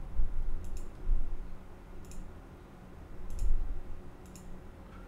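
Repeated mouse clicks in the Galactic Science 2 Minecraft modpack, four sharp, evenly spaced clicks about a second apart over a low, quiet background hum.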